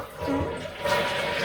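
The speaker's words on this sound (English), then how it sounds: "Here's The Flush." A toilet flushing close by, a rising whoosh of rushing water that swells and holds steady through the short stretch, with no talking over it.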